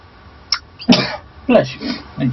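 A single sneeze bursts out, followed by a couple of short breathy vocal sounds and a murmured reply nearby, in an indoor room with faint background hum.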